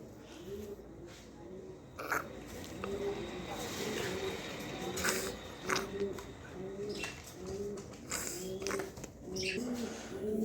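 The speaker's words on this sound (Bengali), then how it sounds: "এখানে এক পেয়ার পাকিস্তানি টেডি কবুতর আছে হাইফিলার কবুতর" A pair of Pakistani Teddy high-flyer pigeons coo in a steady, repeating rhythm of soft, throaty calls, close by, with rustling and faint background noise.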